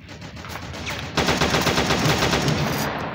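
Gunfire in the World War Heroes video game: rapid automatic bursts that start moderately and then swell into a louder, sustained rattle of close shots, with no talking over them.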